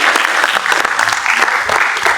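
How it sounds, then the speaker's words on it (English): An audience at a Dubai real estate summit held at Dubai Chambers bursts into sustained applause, a dense, loud clatter of many hands clapping steadily from start to finish. "So a big round of applause for ours, eminent, our Dubai."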